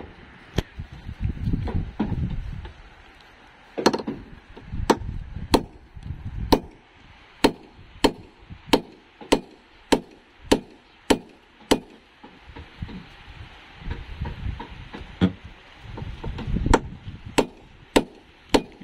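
A boat carpenter drives nails with a hammer and nail punch on a boat under repair, sharp metallic strikes landing near and loud, first spaced, then in a steady rapid series, then slowing again.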